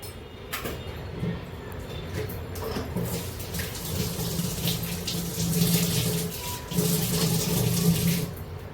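Warm water runs steadily from a tap in a home kitchen, a continuous close splashing rush that swells louder in the second half, with no talking.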